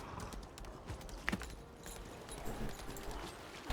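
Faint, steady clip-clop of a horse's hooves while riding a mount in the Lost Ark video game, a quiet, even trotting rhythm running throughout with no speech.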